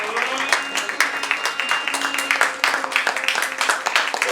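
An audience claps during a lamp-lighting ceremony at a world record and book launch celebration. The applause is dense, steady and fairly close, with many overlapping claps, and a voice talks over it.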